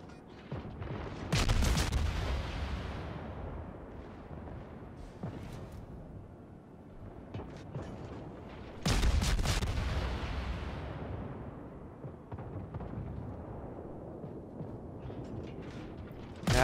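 Naval artillery salvos from a warship in World of Warships, two heavy booming broadsides several seconds apart, each rolling off into a long rumble over continuous battle ambience.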